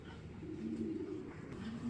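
Racing-club pigeons, young birds hatched in 2023 and not yet bred, coo in low, soft rolling calls that repeat steadily and close by throughout.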